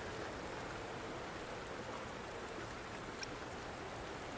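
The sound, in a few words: rain in the video game Wuthering Waves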